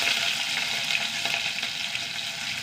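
Mustard seeds and spices sizzling in hot oil for a Kerala sadya dish, a dense, unbroken hiss with faint crackles, close and loud, with no voices.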